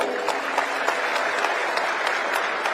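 An audience at a political rally in Ludhiana, addressed by Bhagwant Mann, applauds in a dense, continuous burst of clapping.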